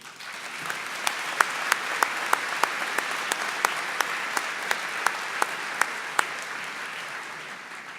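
Sustained audience applause at a university commencement ceremony for the College of Engineering Technology, a steady wash of clapping from a large crowd with a few sharper claps standing out, lasting throughout.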